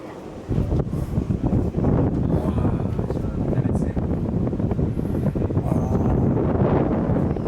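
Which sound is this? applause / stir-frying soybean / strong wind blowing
strong wind blowing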